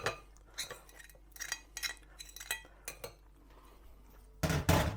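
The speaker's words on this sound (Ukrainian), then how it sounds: "Масло перекидаємо в глибоку тарілочку." Soft butter is scraped and tapped into a deep plate with cutlery, giving a series of quiet, separate clinks and scrapes close by, ending in a louder clatter.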